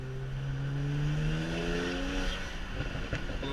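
A BMW 335is E92 with a DCT gearbox pulls hard in third gear, its engine note climbing smoothly and loudly as it accelerates, with a faint tire chirp near the end.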